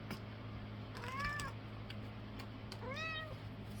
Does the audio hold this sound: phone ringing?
no